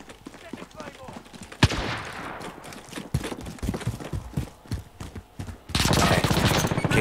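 Burst fire from a FAMAS FR 5.56 in a video game's domination mode in St. Petrograd, dense rapid rattling shots layered with clattering game noise and bursts of louder firing near the end.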